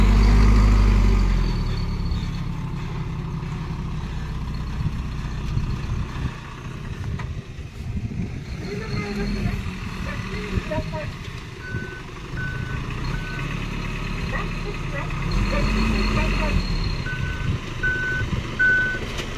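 Large truck idling and manoeuvring on a sand site, engine rumbling throughout with intermittent reversing beeps sounding in short evenly spaced runs.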